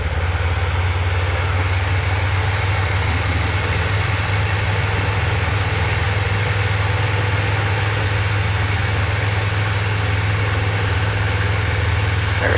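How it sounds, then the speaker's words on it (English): A DA20 light aircraft engine roars at full power during a short-field takeoff, a loud, steady, droning hum heard from inside the cockpit throughout, with no voices. "Let me show you a short field takeoff."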